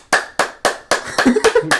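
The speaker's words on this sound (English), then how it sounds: "Claps awkwardly long." A person clapping hands awkwardly and at length during a tabletop game session, close and sharp: a few evenly spaced claps, then a quicker run of claps.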